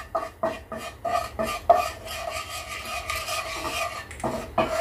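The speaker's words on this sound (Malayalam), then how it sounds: "ഇനി ഇതിലേക്ക് കുറച്ച് ഉപ്പ് ചേർത്ത് കൊടുക്കാം. ഇത് നന്നായിട്ടൊന്ന് മിക്സ് ചെയ്ത് കൊടുക്കുക." A spoon stirs a dry coriander, turmeric and salt masala in a pan for a dhaba-style egg curry: close, rhythmic scraping strokes repeat steadily, with no talk.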